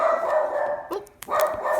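A small dog barks sharply a few times, loud and close, with a short pause between bursts and a brief exclamation from a person.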